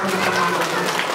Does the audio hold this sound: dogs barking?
no